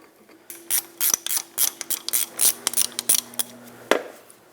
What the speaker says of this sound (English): Remove the banjo bolt all the way.